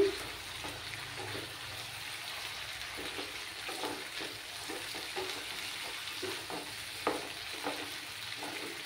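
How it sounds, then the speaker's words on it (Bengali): Potatoes fry in a spice paste with tomato in a pan, giving a steady soft sizzle broken by scattered stirring scrapes and light knocks, faint and without speech. "এবার আমি আলুগুলো দিয়ে কষিয়ে নেব।"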